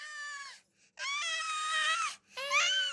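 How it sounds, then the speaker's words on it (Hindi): A jackal cub cries in three long, high, wavering wails with short breaks between them, clear and alone. "उनको किसी सियार के बच्चे की रोने की आवाज सुनाई दी"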